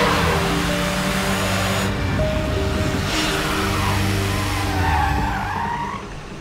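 A car screeches with skidding, squealing tires as it speeds off, loud and close throughout, with the engine roaring under the tire noise and no speech.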